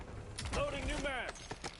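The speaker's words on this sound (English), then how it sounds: "Loading new mag." A magazine reload in Warzone: a brief sequence of close mechanical clicks and ratcheting snaps, with a short tonal voice-like sweep layered in the middle.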